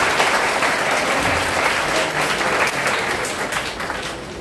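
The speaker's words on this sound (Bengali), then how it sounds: "আমরা আরেকবার তার উদ্দেশ্যে একটা জোরে করতালি দিই।" An audience applauds a guest at an English news presentation competition results ceremony: dense, steady clapping that stays loud and sustained throughout, with no break.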